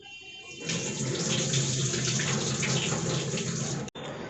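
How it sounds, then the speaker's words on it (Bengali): Tap water runs steadily as rice is washed in a home kitchen, a continuous close rushing splash lasting a few seconds before cutting off abruptly. "তো আমি আগে ভাতটা চাপিয়ে দেবো, তার জন্য চালটা ধুয়ে নিই।"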